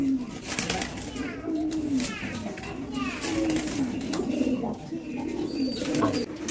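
Pigeons coo in a new cage, a low, warbling murmur running steadily underneath nearby voices, including children's chatter.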